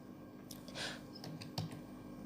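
Quiet clicks from a computer keyboard being typed on, a few scattered keystrokes over a low room hum, faint and close.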